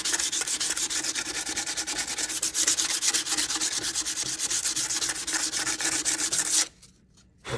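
Sandpaper rubs back and forth over the painted corners of a wooden jewelry box in fast, even, close scratchy strokes that run continuously, then stop before a brief resumption.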